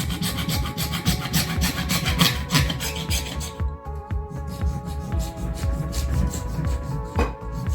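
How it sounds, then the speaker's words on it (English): A hand saw cuts a piece out of a plastic Atari 800XL computer case with steady, rapid rasping back-and-forth strokes, close and continuous, with a brief pause partway through. "And now we can saw that piece out."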